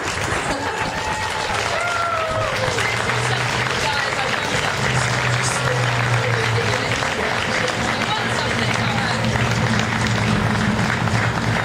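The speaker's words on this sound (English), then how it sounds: "All right, big round of applause for all this energy." Outdoor crowd applauding at the Castro Valley Pride 2013 community event, a steady wash of clapping and cheering heard throughout, with voices and a low hum in the background.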